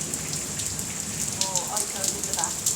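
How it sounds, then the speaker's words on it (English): Heavy rain falls during a thunderstorm in Spain, a dense steady patter with close drips, while a few brief voices sound faintly over it. "thundering and lightning really bad, and even raining Pretty bad over there."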